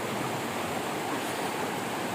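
A clear river at Kampung Gepeh, Pos Kuala Mu, where two branches meet in a Y shape, flows with a steady broadband rushing wash, close and continuous with no pauses.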